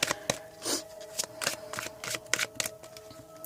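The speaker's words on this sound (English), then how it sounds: "let me just mix up these cards for pile number 2" A deck of tarot cards is mixed by hand, giving a quick run of crisp, close riffling and slapping bursts in an uneven rhythm, at moderate loudness with no talk.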